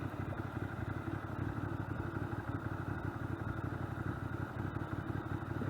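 Ducati Monster 600 motorcycle on an urban ride, its engine a continuous mid-pitched rumble and clatter heard steadily throughout, with no speech over it.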